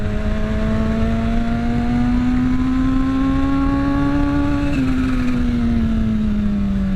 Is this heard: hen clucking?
no